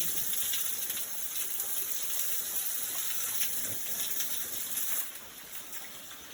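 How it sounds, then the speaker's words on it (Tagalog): Water gushes and splashes steadily as someone plays with it outdoors on a farm, a continuous near rushing sound that eases slightly toward the end, with no talk. "Okay, nilalaro mo lang yung tubig."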